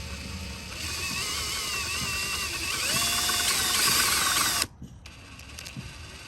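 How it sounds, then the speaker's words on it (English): A power drill runs in reverse with a left-handed bit biting into a stuck hinge pin on a Four Winns boat, whining steadily and rising in pitch, then stopping abruptly, leaving a quieter mechanical rattle. "put my drill in reverse, which is how you use these left-handed drill bits"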